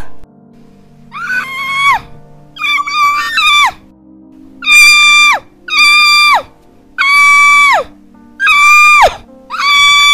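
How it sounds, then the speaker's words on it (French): A woman screams in a drama scene, six long shrill wailing bursts separated by short gaps, loud and close, with a low hum of background noise beneath. "je vais crier"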